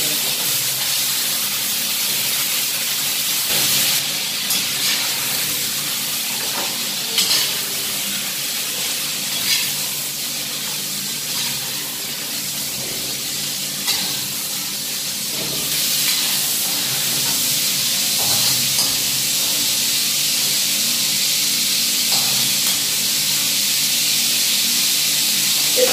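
Chicken frying in oil in a karahi for restaurant-style chicken karahi gives a steady, close sizzle and hiss that runs unbroken throughout, with occasional small pops and stirring sounds and no talking.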